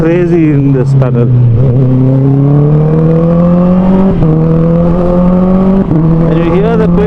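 A Honda CBR 650R motorcycle engine roars loud and steady inside a tunnel, its echoing drone swelling as revs climb, with brief dips at gear changes.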